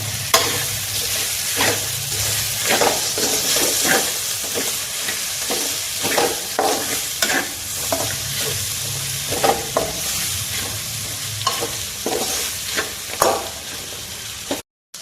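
Tomatoes with salt and turmeric stirred in a pan for carrot rice, a steady close sizzle broken by repeated scraping strokes of a spoon, loud and alone without talk.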